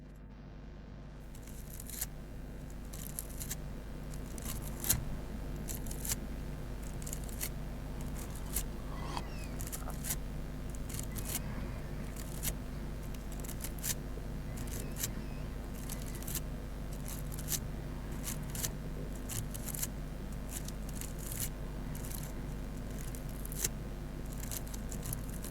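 Repeated strokes cleaning the micro USB charging port of a Motorola Moto G5S Plus, faint, close little scratches and ticks recurring steadily over a soft background hiss.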